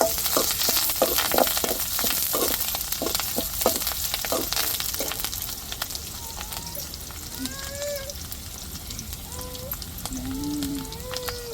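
Curry leaves hit hot oil while a fish curry is being cooked, giving a steady close sizzle with scattered sharp crackles and pops, mostly in the first half, plus a few stirring clinks and no talking.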